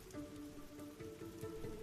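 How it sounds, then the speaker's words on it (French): Light, fine rain falls steadily on an open meadow, a soft continuous patter with scattered tiny drop ticks, fairly close and even in level, with no voices. "tu es seul dans cette prairie avec cette fine pluie"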